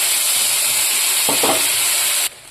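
Ground spice paste sizzles hard in hot oil in a pan for a Bengali fish curry with bay leaf, green chilli and whole garam masala, a loud constant frying hiss with a brief stirring burst before it suddenly drops away.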